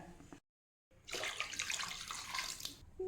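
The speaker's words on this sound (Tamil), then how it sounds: "ரெண்டு டம்ளர் தேங்காய் பால் ரெண்டு டம்ளர் தண்ணி சேர்த்தாச்சு" Coconut milk and water pour steadily into a pot of rice for a paneer coconut-milk pulao, a close, splashing gush that starts after a brief silence and runs continuously to the end.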